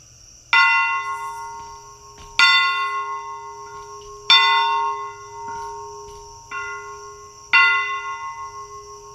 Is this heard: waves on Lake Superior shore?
no